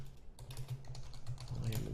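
Computer keyboard typing with a steady patter of quick key clicks over a low background hum, denser near the end, no talk.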